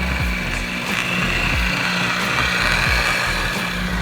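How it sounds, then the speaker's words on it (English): A polishing buffer runs at low RPM over an oxidized boat surface, producing a loud, steady motor drone that hums continuously and evenly from start to finish. "starting on a low RPM on your buffer, you just want to pick up your material"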